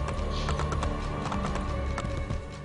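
Steady rhythmic hoofbeats of a galloping horse in the video game Assassin's Creed: Brotherhood, close and continuous, with a faint whinny in the mix.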